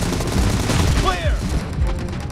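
Gunfire in a shooter video game played on a phone, a loud dense stream of shots and impacts with a brief whooshing effect midway.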